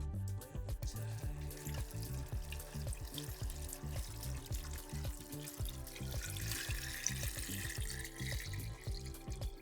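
Water runs steadily into a jar of pineapple, sugar and cinnamon stick for tepache, a continuous close splashing pour with no voices.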